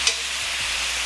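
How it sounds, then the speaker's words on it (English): Cooked beef for pepper steak is dropped back into a hot pan, giving a soft thump followed by a steady, close hiss of sizzling that carries on alone. "You take that beautiful beef that you cooked and you just drop it right back in that pan"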